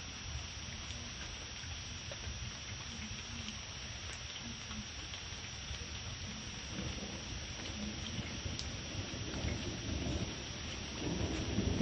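A thunderstorm with steady, dense rain hissing on surfaces and low rolling thunder rumbling beneath it, continuous throughout and swelling slightly toward the end.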